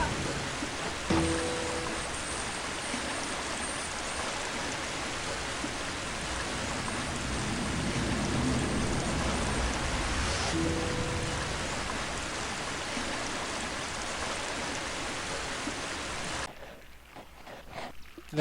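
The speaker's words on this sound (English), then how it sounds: "right near the waterfall" Steady rushing water from a cave waterfall in the PC game Harry Potter and the Sorcerer's Stone, a dense continuous roar that holds for about sixteen seconds and then drops away abruptly.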